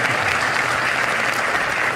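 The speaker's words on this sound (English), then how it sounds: "Ladies and gentlemen, a big round of applause for KV Kamath and Rob Goldstein." Audience at a business discussion event applauds in a dense, steady burst of many hands clapping, close and even throughout.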